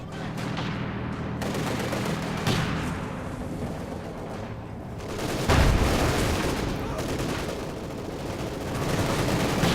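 Dense, overlapping bursts of machine gun fire from a Panzer IV in the World War II strategy game Company of Heroes 2, mixed with heavier explosions and booms, loud and continuous, with faint commentary underneath.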